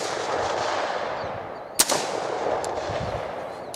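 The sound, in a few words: AR-15 rifle gunshots fired at a wooden target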